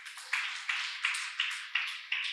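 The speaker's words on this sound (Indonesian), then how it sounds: "Tepuk tangan buat Tuhan Yesus." A church congregation claps in steady rhythm, about six sharp, evenly spaced bursts of hand claps, fairly close and uninterrupted by speech.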